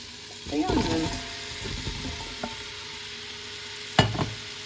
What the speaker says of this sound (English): A good stir, coating it and just leaving it to release all the beautiful flavour in this carrot